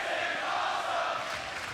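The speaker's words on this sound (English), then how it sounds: "Crowd loving it." Wrestling arena crowd at a TNA No Surrender 2008 pay-per-view, a steady loud roar of cheering that fills the whole span without letup.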